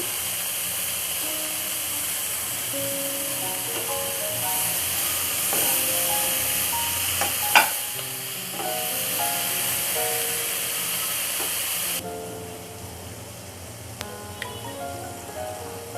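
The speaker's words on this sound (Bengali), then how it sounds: "আমি আগে ফুলকপিটা ভেজে নিই" Cauliflower frying in a pan, a steady loud hiss and sizzle running throughout with occasional clicks and light knocks, easing slightly toward the end.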